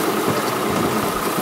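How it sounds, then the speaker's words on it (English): A boat's diesel engine, set up to run on diesel before switching to vegetable oil, idles at a steady, loud rumbling drone with a constant low vibration and no voices. "the green boat captain starts running the engine on regular diesel fuel"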